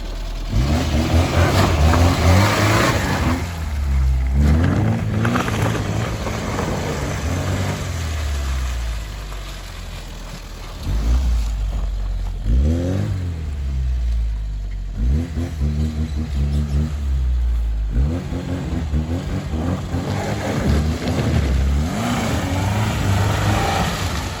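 A 1000 hp Tofaş car drifting in snow, with repeated loud engine revs rising and falling in surges, brief lulls between bursts, close and powerful.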